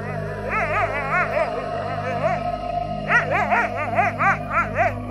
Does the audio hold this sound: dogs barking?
yes